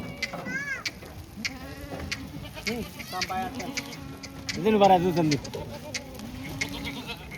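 Rajasthani Marwari goats, including a large pregnant doe, bleat repeatedly in wavering cries, with one loud, close bleat near the middle. Someone talks between the calls, and faint insect buzzing sits in the background.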